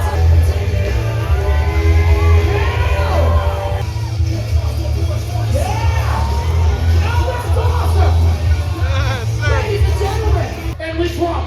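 A large crowd at a motocross event screams and cheers, a dense roar of yells and whoops with shouting rising over it, loud and continuous, while a voice speaks over the noise.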